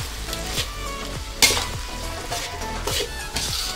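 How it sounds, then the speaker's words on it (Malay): Flat rice noodles with bok choy sizzle steadily in a wok while a spatula tosses and scrapes them in a rough, repeating rhythm; no one speaks. "kita goreng dia basah-basah sedap"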